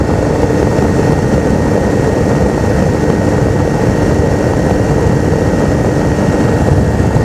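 Aircraft engine drones loudly and steadily from inside a small plane during a dusk flight, a constant propeller-and-engine roar with no breaks.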